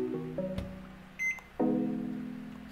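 Oven in The Last Monday video game gives a short series of electronic tones: low chiming beeps, a brief high bleep, then a sustained humming tone that slowly fades, all fairly quiet and with no talk.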